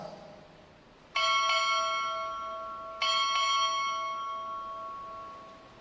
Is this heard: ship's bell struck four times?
yes